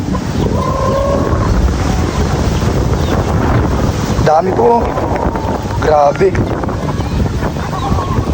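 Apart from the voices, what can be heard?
strong wind blowing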